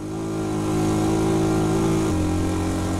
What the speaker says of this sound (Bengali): বাইক কখনো থামাবেন না এই ঢালের মধ্যে, প্রয়োজনে ফার্স্ট গিয়ারে নিয়ে আসুন